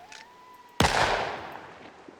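A single sharp, loud unsilenced gunshot in the zombie survival game Project Zomboid, a sudden broadband crack that rings out and decays slowly over about a second and a half, following a faint low tone.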